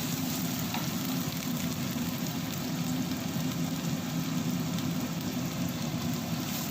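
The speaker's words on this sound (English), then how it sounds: "Saute the remaining paste, guys." Spice paste sautéing in a pan for buttered African chicken, a steady, quiet sizzle that holds evenly throughout with no talking.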